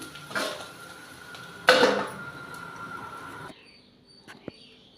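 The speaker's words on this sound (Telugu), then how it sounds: "గ్యాస్ ఆఫ్ చేసేసుకుందాం ఈ బౌల్లో తీసుకుంటాను" Clattering of a pan and spoon as cooked bitter gourd curry is scraped into a bowl, with a few brief scrapes and clinks, one louder clatter, then quiet with a faint tap near the end.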